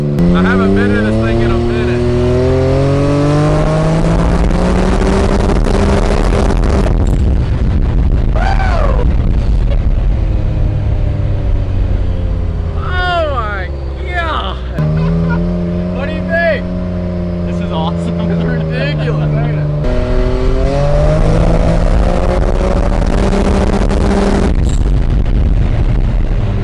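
A 230 HP 2020 Can-Am off-road mud vehicle on its first ride gives a loud, steady engine roar that rises and falls through revs for the whole stretch, with people talking over it throughout.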